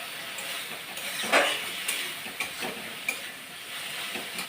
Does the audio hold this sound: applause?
no